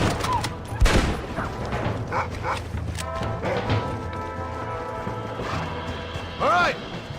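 Gunfire in a Red Dead Redemption shootout, with scattered sharp shots and impacts cracking over busy game ambience, a burst of horse-like whinnies near the end.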